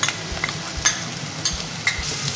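Grated coconut roasting with softened onions and curry leaves in a pan for Kerala-style erissery, with a soft continuous sizzle and intermittent scraping stirs of a spatula, close and fairly quiet, no talk.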